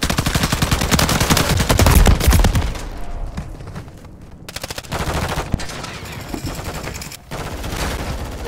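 TAQ Eradicator light machine gun from Modern Warfare 3 rattling off loud, sustained automatic bursts up close, with short pauses and shifts between the strings of fire.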